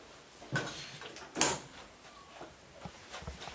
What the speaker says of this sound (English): We'll close the door